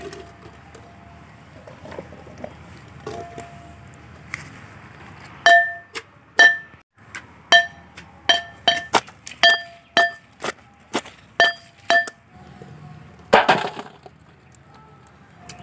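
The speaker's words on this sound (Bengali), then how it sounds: "তো আমরা এবার কুড়গুলোকে ভালো করে ছেঁচে নিই বলে।" Jujube fruits (kul) are pounded in a village kitchen with a run of sharp, hard wooden knocks, about a dozen close, loud strikes in an uneven rhythm, each with a bright clinking ring, over a quiet background.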